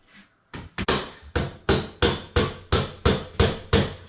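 A hammer drives a nail into a wall board over a stud indoors, with about ten sharp, loud blows in a fairly even rhythm after a brief quiet start and no one talking.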